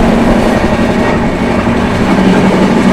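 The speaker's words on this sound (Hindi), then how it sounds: "बहुत सही स्पीड पे ट्रेन है ना" The Uttar Sampark Kranti express, running Delhi to Katra at high speed, fills the space with a loud, steady rumble and rattle of rolling wheels from inside the train, with no voices.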